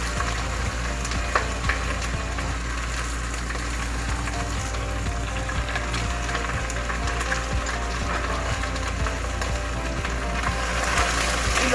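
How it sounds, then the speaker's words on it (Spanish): Fried rice and protein trimmings are stirred and sautéed in a hot pan, making a dense, continuous sizzle with frequent scraping and clicking from a utensil against the pan, close and steady throughout. "lo vamos a remover para sofreírlo o rehogarlo por aproximadamente de 2 a 5 minutos, removiendo constantemente"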